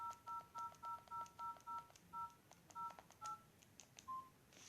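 A quick series of telephone keypad tones, evenly spaced beeps followed by a few more scattered presses, sound faint and close with no talking.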